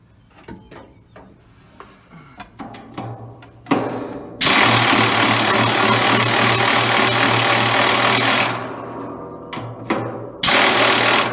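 An impact wrench on a 1963 Ford F100 fires in long loud buzzing bursts after some ratcheting and clinking of tools, close and without speech.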